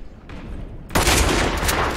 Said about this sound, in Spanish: Dos disparos, cero bajas